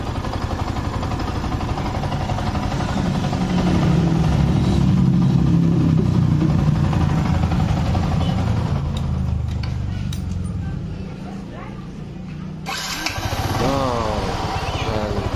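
A Yamaha R15 motorcycle with weak compression and stuck valves runs close and loud, a steady engine drone that swells, dips, then picks up again near the end.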